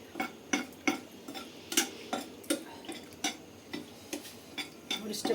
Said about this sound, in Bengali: এটা একটু লাল করে ভাজে নেই।